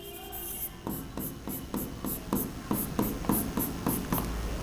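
Marker or chalk strokes on a board during an accounts lesson, a steady run of about a dozen short rubbing scrapes in quick rhythm, close and fairly soft, with no talking.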